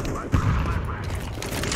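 Gunfire in a tactical shooter match, a sharp shot near the start followed by distant pops across the map, mixed with game ambience and some talk.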